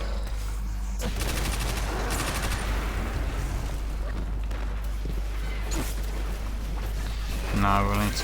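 Machine gun fire from a Destiny 2 first-person shooter rattles in steady rapid bursts throughout, loud and close, with a continuous low hum beneath and brief electronic game tones near the end.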